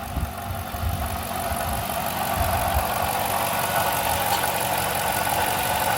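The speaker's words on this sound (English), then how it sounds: "the timing chain tensioner is malfunctioning and the timing chain is flopping around" A 2008 Dodge Charger idles with a malfunctioning timing chain tensioner, letting the chain flop and rattle inside the engine as a steady, close metallic chatter under a low running drone.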